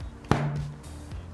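A Galaxy Tab S6 Lite in its case is set down flat on a table, giving one short, solid knock close by, followed by a faint softer contact.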